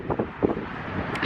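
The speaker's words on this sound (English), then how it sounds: "it's probably too windy for you to hear me" Gusty wind buffets the microphone in low, rumbling bursts, rising and falling unevenly over a short stretch outdoors.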